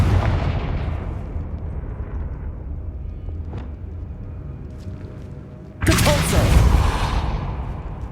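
A Confringo fire spell detonates in Hogwarts Legacy, a sudden loud burst that flares up after a stretch of rumbling game ambience and then slowly decays.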